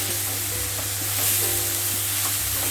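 Green chilies and sliced tomatoes fry and get stirred in a pan while cooking chicken noodles, giving a steady, loud sizzle with occasional soft scraping of the spoon.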